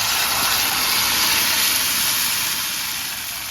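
Loud, continuous hissing sizzle of tamarind water hitting hot oil with curry leaves, steady throughout with only a slight fade toward the end.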